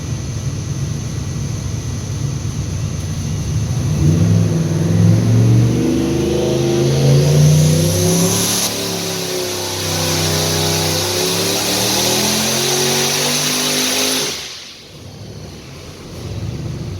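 Small-block Ford with a single turbo on E85 fuel, revving hard outdoors: a rising, roaring engine pull that climbs in pitch for several seconds, holds loud and near, then drops off abruptly with a whooshing fall.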